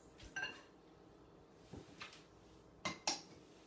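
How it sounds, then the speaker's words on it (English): Baking powder and salt being whisked together in a bowl, with a few faint, scattered metallic clinks and light scrapes of the whisk against the bowl. "So we're going to whisk these together."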